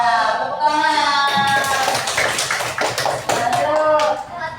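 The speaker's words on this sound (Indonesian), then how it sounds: "Tepuk tangan." Schoolchildren in a classroom break into a burst of hand clapping after a lesson question, a dense, steady patter of many small hands starting just after an adult voice and continuing with voices mixed in.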